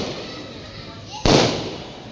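A single loud firecracker blast set off by children downstairs during Karva Chauth festivities, bursting suddenly after a stretch of quiet ambient hum and fading away slowly.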